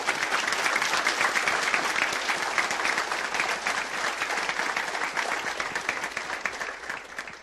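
Sustained crowd applause at a sheriff's deputy swearing-in ceremony, steady dense clapping from an indoor audience lasting about seven seconds and tapering slightly at the end.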